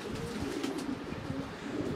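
Lahori Siraji pigeons in a loft coo steadily in low, rolling phrases over a constant background hum, close and moderately loud, with no voices.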